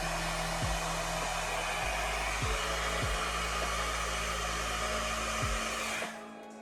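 Babyliss Multi-Style 1200 hair dryer blowing steadily with a loud, even airflow roar, interrupted by several short clicks or bumps, then cutting off near the end.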